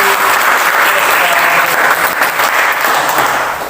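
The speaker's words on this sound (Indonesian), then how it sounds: "Mari kita tepuk tangan untuk" Audience applauding after a group presentation in a classroom or hall, dense steady clapping that fills the whole stretch at close range and fades slightly at the end.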